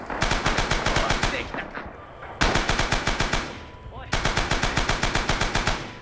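Rapid machine gun fire in the video game Rising Storm comes in three long, loud, close bursts of evenly spaced shots, separated by brief pauses.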